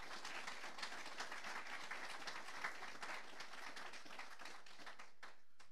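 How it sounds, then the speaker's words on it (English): An audience applauds its presenters with steady, faint clapping that sounds distant and continuous, then thins out near the end. "Let's give Brother Eric and all our presenters a round of applause,"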